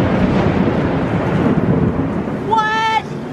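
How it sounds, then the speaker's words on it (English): A heavy rainstorm roars steadily and loudly with low thunder rumbling close by, and a brief high whistle rises near the end. "I have never heard a lightning strike like thunder that close together before"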